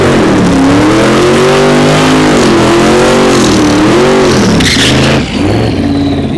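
Gavin Wilkins' Mustang-looking race car, the most powerful car at the Autoplay Initiation 2017 Circuit Challenge, revs loud and close on the track, its engine note climbing and dipping in repeated swells, with no talking.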